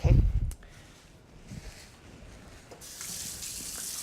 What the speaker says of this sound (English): So now I'm gonna go ahead and rinse my hands.